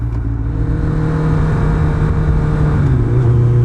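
Suzuki Hayabusa motorcycle accelerating through the gears, its loud engine droning close up with a steady, continuous roar that climbs slightly in pitch toward the end.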